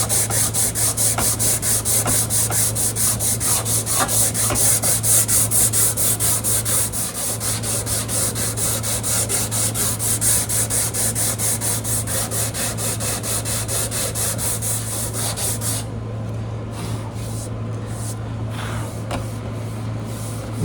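Steady back-and-forth rasp of 120-grit sandpaper on a flat block worked along the fretboard of a 1943 Martin D18 guitar during a refret, close and continuous for about twenty seconds over a low hum, with strokes thinning out near the end.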